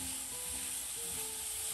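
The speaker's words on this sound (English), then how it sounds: "We're gonna stir this up, it says, until the garlic becomes fragrant." Garlic sizzles in a pan over medium-high heat while being stirred, a steady bright hiss with faint scraping, alone and close.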